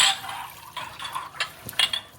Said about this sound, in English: I'm now gonna rinse them in hot water